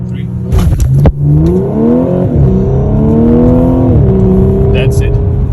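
A 2013 Audi S5 launches under launch control, the engine roaring as it climbs steadily through the revs, loud and close, with a quick shift partway and a short pause in pitch before pulling on.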